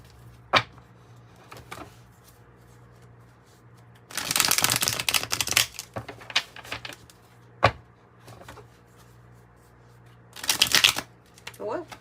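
Tarot cards shuffled close by in two separate riffling bursts, crisp fluttering card noise with soft taps and handling sounds between them.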